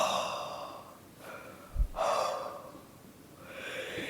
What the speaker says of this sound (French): La patate chaude, je sais pas si vous vous rappelez, c'est quand on va souffler de l'air chaud.